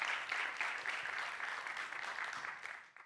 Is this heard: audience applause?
yes